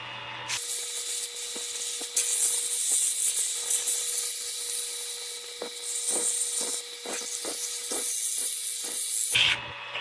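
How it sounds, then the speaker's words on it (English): Steady hiss of sandpaper lightly sanding a turned, egg-shaped wooden box up close, with rhythmic strokes and soft scraping taps, no voices. "All right, let's give it a light sanding."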